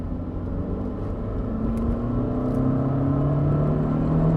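A 2002 Citroën Xsara 1.6 accelerates at full throttle from low revs, its engine drone steadily rising in pitch and growing slightly louder as speed builds, heard from inside the car with no talking.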